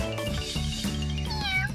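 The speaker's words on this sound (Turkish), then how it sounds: "Kedi içeri girmek istiyor." A cat meows loudly and close up, a drawn-out, tonal cry that rises and falls over a steady background.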